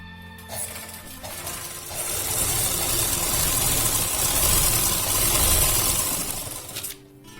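Electric sewing machine stitching a salwar, running in one continuous fast whirring burst of several seconds after a brief quiet start, close and fairly loud, stopping abruptly near the end.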